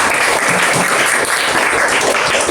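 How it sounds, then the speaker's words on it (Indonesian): A classroom of students claps for a child who has remembered the material, giving a dense, steady round of applause from many hands that lasts the whole moment. "Yuk, tepuk tangan untuk anak ini semuanya karena sudah ingat."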